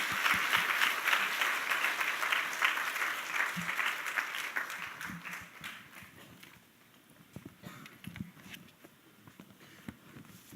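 Church congregation at a Sunday evening worship service applauding as a pastor comes forward, a dense, steady clapping that is loud at first and thins out toward the end into scattered claps.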